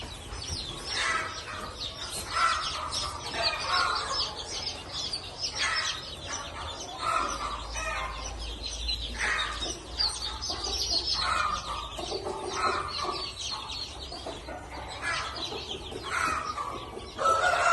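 Phu Phan black chicken chicks in a brooder, a flock of about seventy to eighty, keep up a dense, steady chorus of overlapping high peeps and chirps from close by, with no talk over them.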